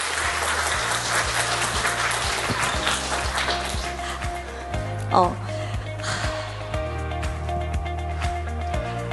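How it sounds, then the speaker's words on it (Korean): Applause rises from the audience at a startup forum in Gwangju after a Q&A session closes. The clapping is broad and steady over the first few seconds, set against tonal background music that continues after it fades. "팀장님께 박수 한번 보내드리도록 하겠습니다"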